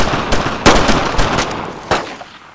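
Bursts of World War 2 machine gun fire in the squad-based shooter Brothers In Arms: Road To Hill 30, loud and close, with sharp cracks and rapid rattling volleys overlapping in a chaotic firefight.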